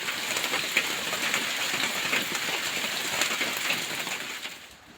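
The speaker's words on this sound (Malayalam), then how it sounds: "ഇടയ്ക്കിടയ്ക്ക് ഇങ്ങനെ മഴ നന്നായിട്ട് പെയ്തുകൊണ്ട് വരുന്നുണ്ട്" Steady rain pours down continuously, a dense hiss of drops hitting a surface with no voices, fading slightly at the very end.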